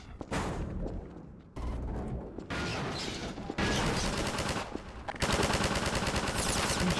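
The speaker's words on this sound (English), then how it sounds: "What are you shooting at?" Rapid gunfire in Half-Life 2: Episode 1, bursts of automatic shots and single loud cracks in several abrupt segments, dense and close.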